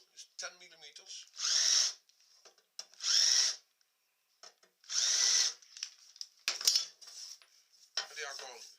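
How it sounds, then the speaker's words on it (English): A power drill fitted with a 10 millimeter bit runs in four or five short, loud bursts of a second or less, separated by quiet gaps with faint handling clatter. "drill is 10 millimeters."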